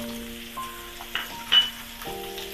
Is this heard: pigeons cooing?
no